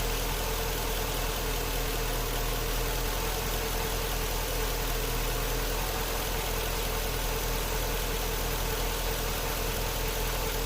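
A 2008 Jeep Grand Cherokee 5.7L Hemi with a misfire on cylinders 4, 6 and 7 idles steadily and close by, holding a continuous engine hum with slight roughness, no talking over it.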